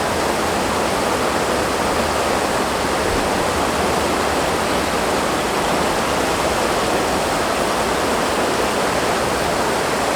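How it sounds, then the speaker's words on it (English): Water pours steadily over a little spillway, a dense, even rushing roar that stays close and constant with no other sounds on top. "So there's like a little spillway of water coming over."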